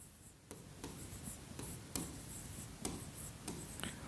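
Chalk or marker strokes on a classroom board during a percentage lesson, a series of short scratchy taps and scrapes in irregular rhythm, close and fairly quiet with no talking.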